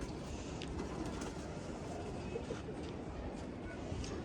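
Female pigeons cooing softly while being held and handled, the low coos mixed into a steady broadband background with people talking nearby.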